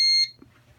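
A new fire alarm system sounds one short, clear electronic beep right at the start, then falls to a faint low hum.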